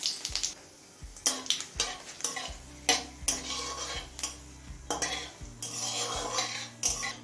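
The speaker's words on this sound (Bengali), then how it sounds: "জিরে শুকনো লঙ্কাটা লাল করে ভেজে নিয়েছি" Cumin seeds and a dried red chilli fry in mustard oil in a kadai under a quiet sizzle, while a metal spoon clatters and scrapes against the pan in repeated close strokes.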